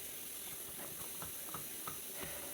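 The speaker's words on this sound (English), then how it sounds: "I just get the tumbler rolling and it does a pre-polish." Rotary tumbler pre-polishing lost-wax cast metal pieces in media, a steady hissing rush of tumbling media with faint soft clicks scattered throughout, continuous and even.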